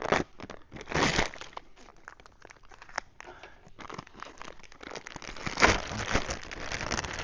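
A vacuum-packed plastic bag holding a two-piece tracksuit is handled and opened up close, with steady crinkling and tearing rustles that rise in louder bursts and then continue as softer crackling.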